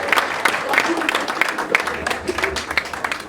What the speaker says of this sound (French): On peut applaudir pour le mécénat s'il vous plaît.